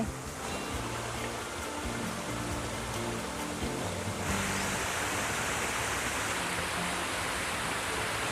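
Steady, dense rush of a waterfall fills the scene without pause, a broad hiss that thickens partway through, with no voices; at Khao Yai, Thailand.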